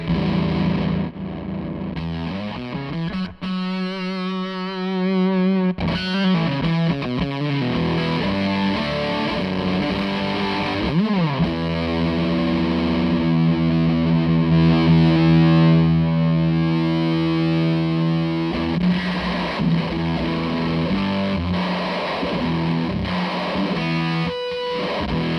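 Electric instrument through a Zander Circuitry SiClone V3 distortion pedal on its shunt setting, giving a heavily distorted, gated and sputtering texture; sustained notes and chords shift and choke over a long stretch, loud, with no talking.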